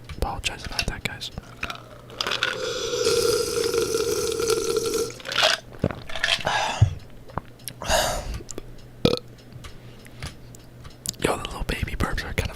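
Small baby-like burps from a person making sand art, a few short gulping belches scattered among soft whispery breaths and wet mouth sounds, close to the microphone with a fan humming faintly behind.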